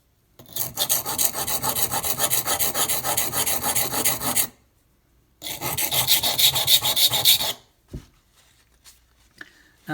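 Knife blade ground on a silicon carbide stone, two long bursts of fast, scratchy back-and-forth strokes up close, then a few faint scrapes and knocks.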